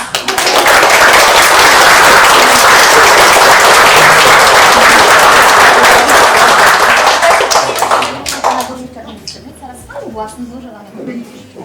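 Applause and clapping from guests at a civil wedding ceremony in a registry office, loud and sustained for about eight seconds, then fading to scattered claps under background chatter.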